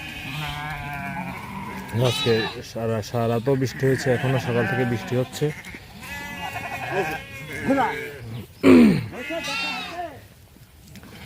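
Sheep bleat close by, with several wavering calls in a row, while a person talks over and between them as the flock is taken out to graze after rain.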